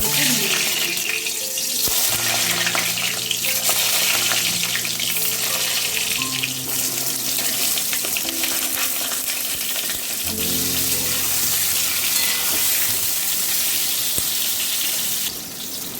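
Eggplant pieces fry in hot mustard oil with a continuous loud hiss and crackle, some watery spitting and stirring, and faint music in the background.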